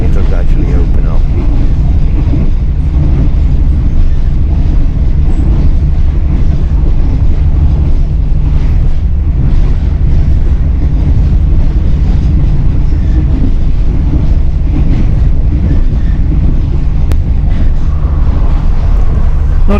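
Cabin of a moving overnight passenger train from Trang to Bangkok, Thailand: a loud, continuous low rumble with rattling and wind noise that runs unbroken for the whole stretch.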